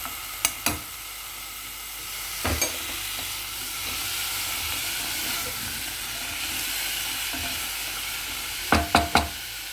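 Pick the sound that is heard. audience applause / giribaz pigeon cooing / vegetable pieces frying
vegetable pieces frying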